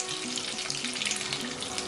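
Curry leaves and dried red chillies fry in hot oil over a low flame for a tempering, giving a steady, close crackling sizzle that runs unbroken with no voices.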